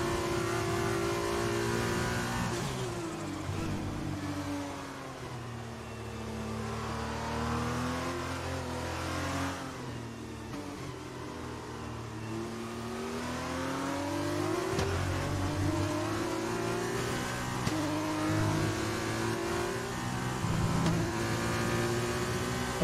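Formula 1 race car engine in F1 2020 at a wet Silverstone, revving up and down through gear changes in long sweeping pitch arcs, steady and moderately loud throughout.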